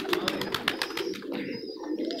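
Red-eyed teddy pigeons coo close by, a short run of soft rolling coos over a quick rattling burst, then a quieter throaty coo as it trails off.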